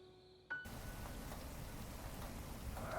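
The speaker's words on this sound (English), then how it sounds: "she woke up hearing the sound of the rain tapping on the roof" Rain falling steadily at night and tapping on a house roof, a continuous dense patter after a brief quieter opening, fairly close and even, with no voices.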